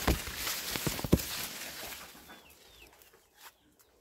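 Chickens cluck close by in a garden over a scratchy, rustling burst that gradually fades, with a faint bird chirp near the end.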